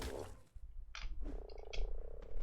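Frog croaks from the video game Ark Survival Evolved, a few short separated calls close by with a quieter sustained croaking tone between them, and no talking.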